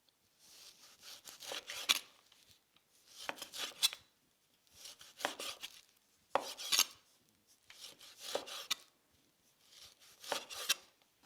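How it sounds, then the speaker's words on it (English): A knife cuts through stacked pieces of food into strips on a cutting board, making six separate bursts of crisp slicing and rasping, evenly spaced, each about a second long with short quiet gaps between. "I'm going to stack them and just slice in strips"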